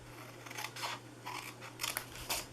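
Scissors snip through a paper treat box in a series of crisp, close cuts, about five short bursts spaced roughly half a second apart, each sharp and distinct against a quiet background with no talk.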